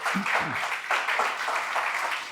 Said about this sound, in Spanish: Dale un aplauso, Señor, en esta mañana